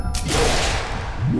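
A single sharp gunshot in the zombie puzzle game Containment, a crack at the very start followed by a decaying boom and lingering rumble.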